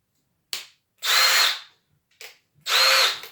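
A Milwaukee M18 brushless drill/driver on a 2 amp hour battery whirs in short trigger pulls: two brief blips and two longer bursts, close and clear, with no talk.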